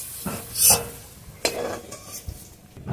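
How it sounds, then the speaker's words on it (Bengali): Chopped green chillies and onion stirred in hot frying oil, with a few distinct spoon scrapes and clinks against the pan over a soft, low sizzle. "একটু নাড়াচাড়া করে সব কিছু ভেজে নেব"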